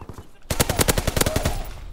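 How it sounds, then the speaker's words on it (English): Rapid automatic gunfire from hip-fired weapons in the Call of Duty WW2 video game, a loud burst of about a dozen close, evenly spaced shots with no talking. "So I'm gonna hip fire. I'm gonna hip fire."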